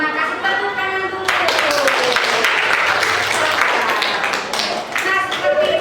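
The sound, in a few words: class applause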